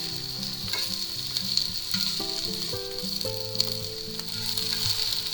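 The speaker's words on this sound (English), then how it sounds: "we're going to take our nice onions that we sliced up, and we're going to put them right in there" Sliced onions sauté in oil in a hot pan for a grilled ham, cheese and tomato sandwich, giving a bright steady sizzle close by with occasional crackles, while a low tonal hum runs underneath.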